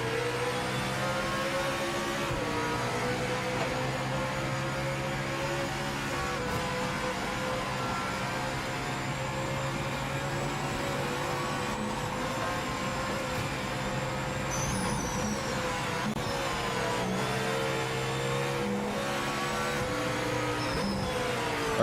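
Porsche race car engine in the racing game Project Motor Racing, a sustained loud droning engine note that shifts pitch with changing revs, broken by a brief whining rise and fall partway through, with no voices.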